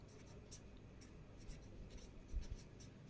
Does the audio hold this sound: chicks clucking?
no